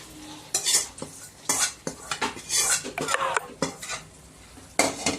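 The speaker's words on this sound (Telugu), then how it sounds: "ఇప్పుడు పోపు తీసుకెళ్ళి ఇది మనం ఆల్రెడీ బాయిల్ చేసి పెట్టాం కదా రైస్, దీంట్లోకి యాడ్ చేసేయాలి" A spoon stirs tempering into boiled rice in a metal pot for Telugu uppu pongali, giving repeated close scraping and clinking strokes in an uneven rhythm over a faint sizzle.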